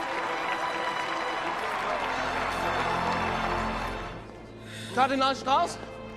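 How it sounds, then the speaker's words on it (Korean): A crowd in a film scene applauds and cheers for the camerlengo who saved the Vatican from an antimatter bomb, a dense wash of clapping and voices that fades after about four seconds, followed by a short musical or vocal phrase. "반물질로부터 바티칸을 구해낸 국무처장에게 박수가 쏟아지게 되고"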